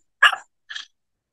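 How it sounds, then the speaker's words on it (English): A dog gives two short, sharp barks close by, a louder first bark followed by a softer second one, with silence around them. "Bibo tried to yell, but all he could do was bark."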